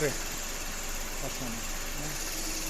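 Mazda CX-7 with a 2.3-litre engine idling while suffering ignition misfires, a steady mid-pitched engine drone with slight irregular knocking, close and continuous with no talk.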